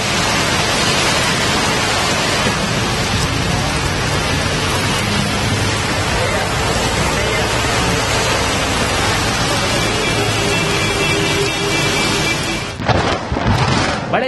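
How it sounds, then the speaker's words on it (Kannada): Heavy evening rain pours down in Tumakuru, a loud, dense and continuous roar of rainfall that persists throughout and shifts briefly near the end. "ತುಮಕೂರಿನಲ್ಲಿ ಸಂಜೆ ಸುರಿದ ಮಳೆಗೆ ಜನರು ಪರದಾಡುವಂತಾಯಿತು"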